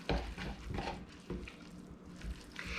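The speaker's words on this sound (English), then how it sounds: "And then you're just gonna mix it in." A spoon stirs grated Parmesan into a chicken stuffing mixture, giving soft repeated scraping and clinking strokes against a bowl, close and moderately quiet, with no talking.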